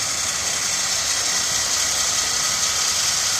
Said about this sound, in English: So now we're going to run out the lift so that we could theoretically load the bike.